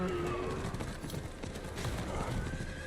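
A horse mount in the video game Diablo IV whinnies and its hooves clip-clop steadily at a gallop, the sound continuous and fairly close amid layered game ambience and effects.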